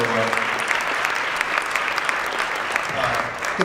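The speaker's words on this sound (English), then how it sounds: "give a round of applause to this great audience" A conference audience at a panel discussion claps steadily, a dense sustained applause from a room full of people that stays even throughout.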